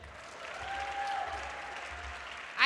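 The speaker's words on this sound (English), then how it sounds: "Let's give another round of applause to Demi." Applause from an audience at a community conference on sports, a steady wash of clapping over the whole stretch with a brief louder burst at the very end.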